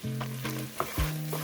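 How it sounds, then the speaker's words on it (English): Onions sizzle in a pan with drained meat, a steady frying hiss broken by a few stirring scrapes and clunks of a utensil against the pan, close and moderately loud with no talking. "let's go ahead and add our onions and let them cook down for a few minutes"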